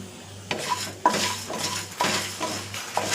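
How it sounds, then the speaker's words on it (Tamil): Whole spices (cinnamon, cloves, cardamom, fennel, cumin and black pepper) dry-roasting in a pan, stirred with a metal spoon that clinks and scrapes in distinct strokes about every half second, close and clear. "இந்த பட்டை, கிராம்பு, ஏலக்காய், சோம்பு, சீரகம், மிளகு இதையும் போட்டுக்கிறேன்"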